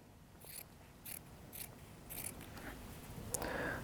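Scissors cutting T-shirt fabric into strips for a bag, a series of soft, close snips at roughly half-second intervals, faint against a quiet background.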